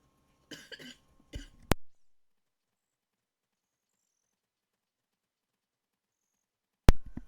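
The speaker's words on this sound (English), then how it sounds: "Too busy coughing." A person coughs in two short, rough bursts close to the mic, followed by long silence, with a sharp click after the coughs and another loud click near the end.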